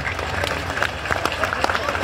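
An audience claps inside the hall at Bageshwar Dham's divya darbar, with a steady patter of scattered applause throughout and a speaking voice over it.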